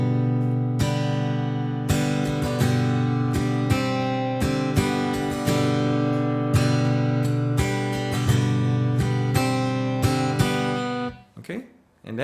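Strummed guitar plays the opening part of a song, ringing chords struck in a steady rhythm for most of the passage, close and alone. Near the end it gives way to a brief scuffle of handling noise.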